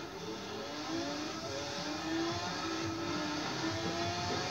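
A Chevelle's engine revs and whirs steadily in the Forza racing game, a continuous droning tone with rising harmonics held at a constant loudness throughout.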